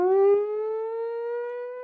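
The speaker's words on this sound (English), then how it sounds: "You get the emergency siren and it just started." An outdoor emergency siren in Illinois, sounded at 10 o'clock on a Tuesday, holds a clear, steady wailing tone that rises slightly as it starts, loud and alone with no talking.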